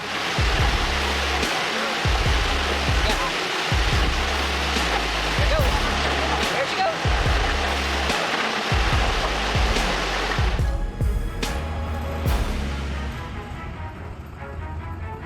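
A raging river rushes in a loud, continuous broadband roar with heavy pulsing low thumps, then thins out and quiets somewhat toward the end.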